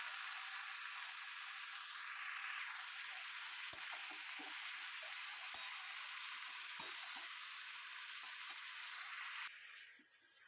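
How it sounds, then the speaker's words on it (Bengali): Chicken frying in a pan for a home-style curry, a steady, faint, even sizzle throughout with a few soft clicks of stirring, no talking, dropping away at the very end. "এবার চিকেনটাকে আমি ভালো করে একটু ভাজবো"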